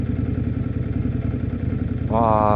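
An Indian Scout Bobber motorcycle idles nearby with a low, steady throbbing exhaust burble, muffled for noise regulations, then revs up slightly near the end.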